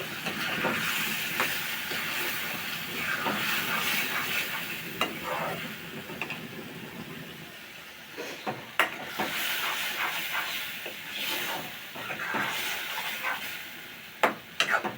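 Stinging catfish (shing fish) sizzles steadily in a hot frying pan, with a continuous oily hiss broken by sharp scraping stirs and pops.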